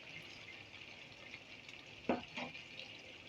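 A spoon stirs ginger, garlic and onion masala with turmeric and salt in a pan over a steady soft sizzle. Two quick scraping strokes stand out near the end, with no talking.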